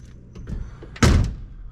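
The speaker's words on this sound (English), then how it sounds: "Door shut, close as they should." A 1968 Ford Mustang door shuts with a single solid, loud thud close by, preceded by faint shuffling and small knocks before it.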